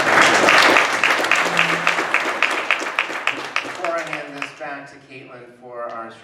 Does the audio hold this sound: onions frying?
no